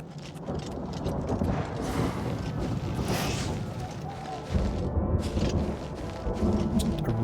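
A storm atronach in the video game Oblivion Remastered brings loud rumbling thunder and a rushing, rain-like storm roar, continuous and dense with swelling crackles throughout.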